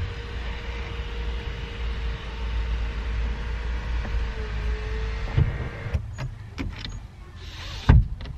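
An electric sunroof motor on a car in London runs with a steady mechanical whine for several seconds, then stops, followed by a few sharp clicks and a thump near the end.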